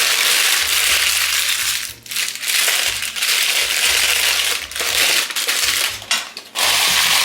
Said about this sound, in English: A little trick is to ball up your parchment paper